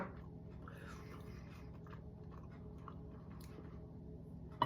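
Quiet, close chewing of a heavy hollow crunchy chocolate egg, a steady soft mastication with faint crunches throughout and no talking.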